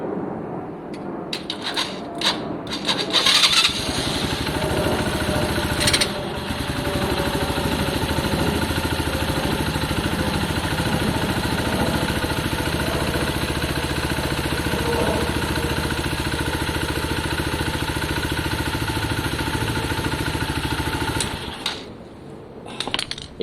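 A Lexmoto Valiant motorcycle with a spark and wiring fault cranks and catches after a few clicks, then holds a steady, rattly mid-pitched idle up close for about twenty seconds before cutting out.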